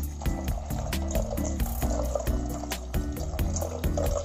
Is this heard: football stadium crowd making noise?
no